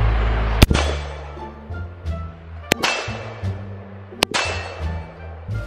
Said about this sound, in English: I have two green tips and one steel core penetrator. I'm gonna shoot all three just to see what happens.